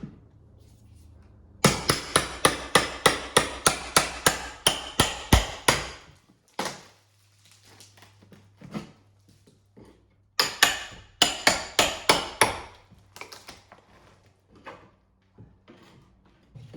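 Hammer blows on a mini crowbar prying out a rotten exterior door threshold: rapid bursts of sharp metallic strikes, about a dozen in quick succession, a pause with scattered knocks, then another fast run of hits, loud and close.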